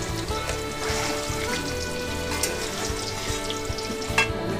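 Potatoes frying in oil in a home kitchen, a steady close sizzle with scattered crackles and pops running throughout, no voices.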